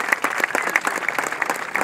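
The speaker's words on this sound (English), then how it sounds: "give a wonderful warm welcome to White Knight 2, Sir Richard Branson, Burt Rutan, and the entire team" An audience applauds warmly for the White Knight 2 team with Sir Richard Branson and Burt Rutan, a dense, steady clatter of many hands clapping close by with no talking.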